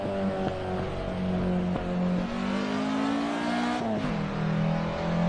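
A Porsche with a laggy old turbo engine racing on track, a steady loud engine drone that slowly rises in pitch, then briefly dips and climbs again as it picks up, with no talk.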